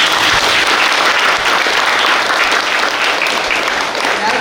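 Devotees at a Tamil temple festival for the Amman goddess clap together, a loud, dense and continuous burst of applause close by, with faint crowd murmur mixed underneath.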